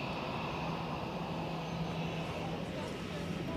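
Airliner at Zurich Airport on its takeoff roll, a steady broadband engine roar with a low hum, continuous and fairly distant across the whole stretch.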